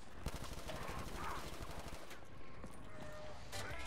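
Rapid automatic gunfire from zombie shooting in the Call of Duty Black Ops 3 custom zombies map Tron Towers, a dense, fairly quiet stream of shots running the whole time, with voices mixed in.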